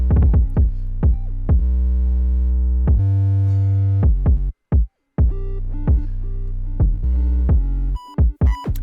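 Deep, booming 808 bass notes with reverb pulse in a rhythmic pattern, each hit ringing out with a hollow, well-like echoing tail before cutting off.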